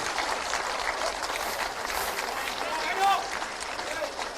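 Steady, dense applause from a crowd at a government appointment-letter ceremony, continuous throughout with a slight swell near the end, heard indoors at moderate loudness.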